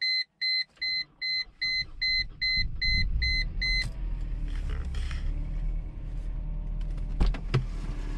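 An old Mercedes bought for $500 gives a run of electronic chime beeps, then its engine catches and settles into a low, steady rumble close by, with a sharp knock near the end.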